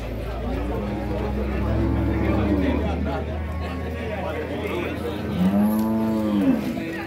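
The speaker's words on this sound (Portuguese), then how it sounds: "A vaquinha aqui parida aqui, ó, tá preocupada, porque eu tô perto do bezerro dela." A cow at a cattle fair, recently calved and standing near her calf, lets out two deep moos, close by, over a steady murmur of crowd noise and occasional talk.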